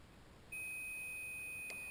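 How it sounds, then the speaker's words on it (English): A Polaroid 450 camera's development timer goes off with a single sustained high-pitched electronic beep that starts abruptly and holds steady, clear and close in a quiet room. "we'll see when that little timer goes off"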